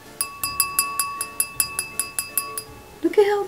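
Purple glass goblet with a vampire-themed design clinks repeatedly, about a dozen bright, evenly spaced taps ringing close up, followed by a brief rustle and a short voice at the end.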